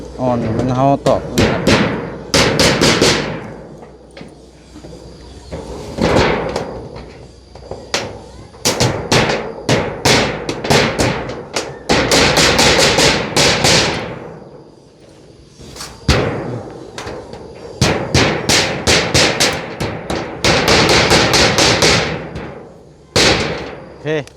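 Loud, sharp hammer blows ring out in rapid bursts during kitchen construction, clustered strikes separated by short pauses, with occasional voices in between.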